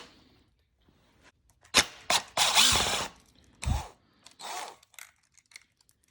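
Ratchet work on 10mm bolts holding the oil fill tube bracket of a 2.0L turbocharged engine, heard as a few sharp clicks and short bursts of mechanical rattling with quiet gaps between them, fairly close.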